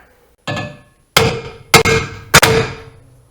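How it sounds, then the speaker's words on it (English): Pinched metal on a 2005 Jeep Liberty rear bumper pounded back down with a hammer: four loud, close metallic blows, the last three coming in an even rhythm with a short ring after each. "I'm going to go ahead and pound it back down"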